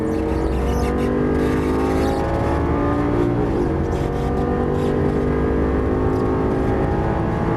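A Lamborghini Gallardo Superleggera LP570-4 accelerates out of a corner on a racetrack. Its engine note is loud and sustained and climbs steadily through the revs with no pause.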